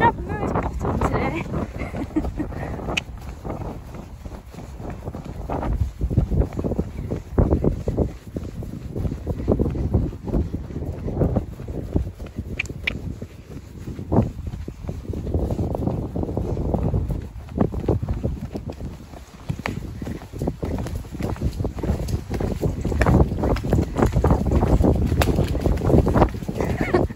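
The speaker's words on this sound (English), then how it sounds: "The wind might have got a little bit up" Wind blowing outdoors on a farm, gusty low buffeting against the microphone that rises and falls throughout, with faint clopping underneath.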